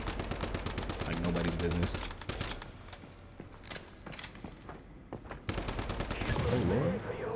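Rapid automatic gunfire from a Gatling gun in the video game Once Human, loud bursts with a brief lull midway, while a voice talks over the shooting.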